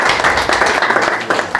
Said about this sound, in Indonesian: Berikan sorak-sorai dulu.